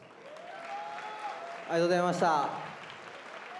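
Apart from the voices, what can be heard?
audience applause at kickboxing event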